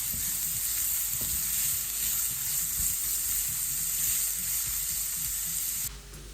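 Onions sizzle softly and evenly in a frying pan, a constant close hiss with faint occasional stirring, before the sound drops off near the end.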